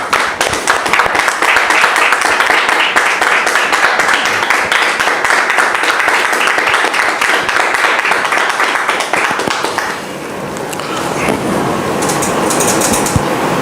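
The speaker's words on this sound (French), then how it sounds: "Je demande à nos frères de nous aider à le recevoir avec vos applaudissements, s'il vous plaît." Dense, sustained audience applause fills a church gathering, loud and continuous, with a brief dip in intensity near the end before the clapping picks back up.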